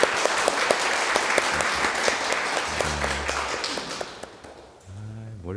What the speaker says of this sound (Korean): 오, 박수.